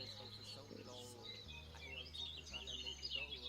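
Birds chirping and calling at 5 AM beside a carp fishing lake, a mix of small thin tweets and warbles over a faint steady hum, quiet and somewhat distant.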